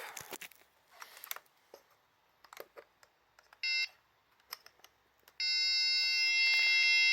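Multimeter continuity tester on the fuel pump of a BMW F650GS motorcycle left standing for years, with scattered handling clicks, then a short high beep and a long steady beep tone.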